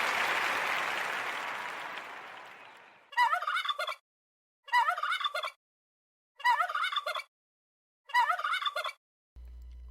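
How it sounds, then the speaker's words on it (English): Four separate bursts of turkey gobbling, loud and close, follow a fading rush of noise in a Thanksgiving holiday show, with no talk over the calls. "Oh my goodness gracious, it's a turkey."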